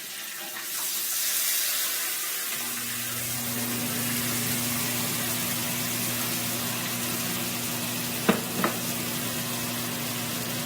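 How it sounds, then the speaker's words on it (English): Ginger and garlic frying in oil in a home kitchen give a steady, close sizzle that rises within the first second and holds throughout, with two brief clicks near the end. "He's now put in the ginger and garlic with some oil"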